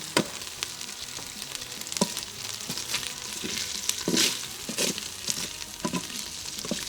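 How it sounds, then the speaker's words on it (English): Smoked sausage browns in an Instant Pot while jambalaya is being made, giving a steady close sizzle and crackle throughout, broken by occasional stirring scrapes and clicks with no voices. "Now the sausage technically is cooked because it's smoked. We're just browning it up."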